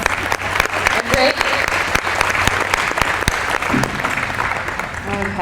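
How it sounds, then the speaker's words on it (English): A dinner audience at a university athletic hall of fame event applauds parents, loud continuous clapping with sharp individual claps standing out across the whole stretch, a few voices faintly underneath. "give them a round of applause"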